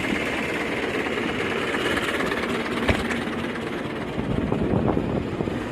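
An Ursus C-360 tractor engine runs steadily with its hydraulic lift raised, a rough, constant idling rumble with faint knocking, heard close and without interruption.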